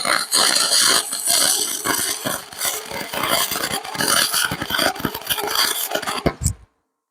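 Welding on a cast aluminum lawnmower part: a loud, close, crackling and buzzing arc that rasps on with uneven flutter for about six seconds, then stops abruptly into silence.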